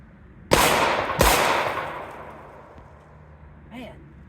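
Two loud, close gunshots less than a second apart from a shooter practising recoil control and follow-up shots, each with a long reverberant decay, then a faint voice.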